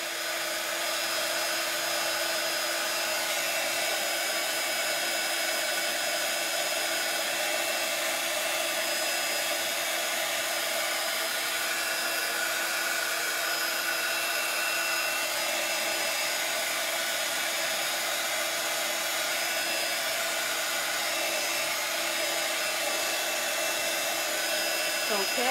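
A hair dryer blows steadily on a painted desk drawer, a loud, continuous whooshing whine that holds without a break for the full length.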